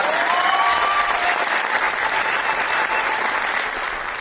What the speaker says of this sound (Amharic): አጨብጭቡ።